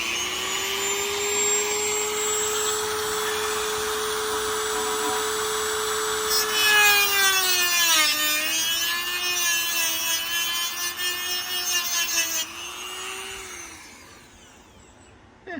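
A power tool whines steadily, then bogs and pitches down as it cuts through a clip on a Fiero GT car part, rising again before winding down and trailing off; loud and close.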